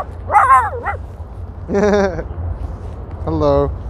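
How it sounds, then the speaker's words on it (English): Two small dogs playing on a street in Astoria, Queens, give three separate bursts of high yipping barks and whiny yelps, close and fairly loud over a low city rumble. "Two dogs playing over there."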